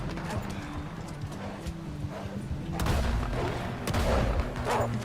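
Horses gallop in the Red Dead Redemption 2 video game, with steady clip-clop hoofbeats across the whole stretch. Gunfire crackles over them, and the noise grows louder and busier in the second half.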